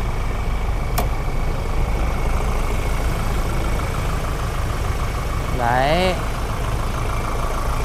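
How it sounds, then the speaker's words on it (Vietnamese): A Ford Everest Titanium 4x2 engine idles with the bonnet open, a steady even rumble held throughout, with someone speaking over it near the end. "mở ra thì mình mới bắt đầu mình nghe rõ cái tiếng động cơ hơn"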